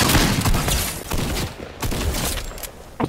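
Rapid bursts of gunfire in the video game Fortnite, dense continuous shooting with overlapping cracks that fade briefly then return, loud and close.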